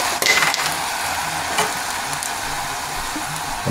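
Cream poured into a hot pan of haddock with white wine, a steady sizzle and fry with a brief splash near the start, close and fairly loud, no talking.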